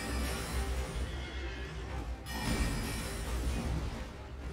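A horse in the video game Elden Ring lets out a loud whinny over steady game background noise, with a brief break midway before the sound continues.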